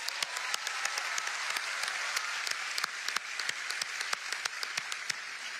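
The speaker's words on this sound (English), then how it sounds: "let's clap for that" Audience applause at an NC State event welcoming NASA astronaut Christina Koch, a steady, even wash of many hands clapping at a distance, sustained throughout with no talk over it.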